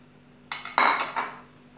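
Metal clinks and scrapes as tomato paste is stirred into a cooking pot for karahi over a low flame, a few close, bright knocks in a short burst with no talk.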